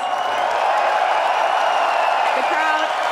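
A packed arena crowd at the FACEIT Major London 2018 CS:GO grand final roars and cheers for the newly crowned champions Astralis, a dense, steady wall of noise that holds throughout.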